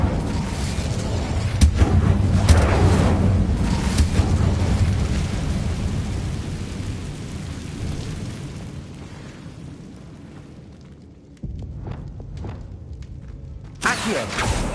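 An Incendio fire spell is cast in the video game Hogwarts Legacy, a loud roaring, booming blast of flame with sharp bursts that fades into a low rumble before more impacts strike near the end.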